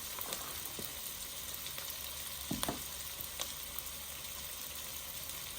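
Onion and garlic frying in a pan give a steady, soft sizzle with a few scattered pops and crackles, close by, with no talking.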